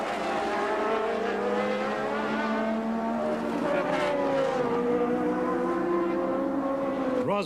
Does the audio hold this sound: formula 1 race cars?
yes